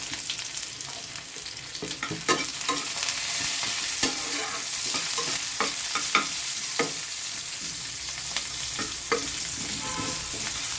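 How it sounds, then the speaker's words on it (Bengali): Onions sizzle steadily in oil in a pan for a spiced eggplant mash, with a bright continuous hiss broken by scattered clicks of stirring, close and without speech. "এই পেঁয়াজগুলোকে আমি একটু ভেজে নেব"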